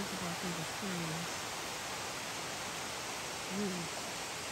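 Waterfall near the Appalachian Trail, a steady broadband rushing of falling water heard at some distance through the trees, with someone speaking briefly over it.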